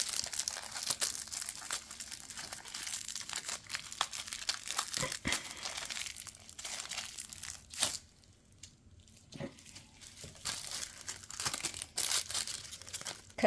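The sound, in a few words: plastic piping bag being knotted and handled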